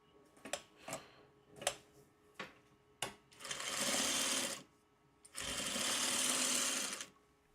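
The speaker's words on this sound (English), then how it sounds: "let me just sew one extra block so I can get the final row" A sewing machine stitches quilt blocks in a few short ticking bursts, then two longer steady runs of fast mechanical whirring, close and fairly quiet, with no talk.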